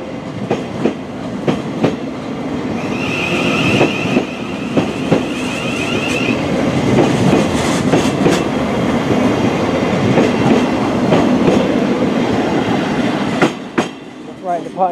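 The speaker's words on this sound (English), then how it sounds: "the 1302 Thameslink service to London Bridge with 700-105" A Thameslink Class 700 electric multiple unit runs through Brighton station on the Brighton Main Line, loud and close, with clattering wheels over rail joints and a steady rumble for most of the pass before it fades.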